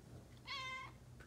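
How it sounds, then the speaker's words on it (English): A house cat in a garage gives a single drawn-out meow lasting about half a second, clear and close against a quiet background. "Funny alley cat. Meow."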